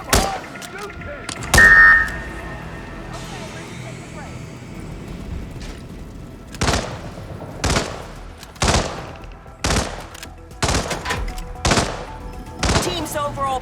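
Gunfire in the Hitman 3 game during a Colorado shooting drill at a target, a series of loud separate shots spaced a second or so apart, with a voice calling out over them.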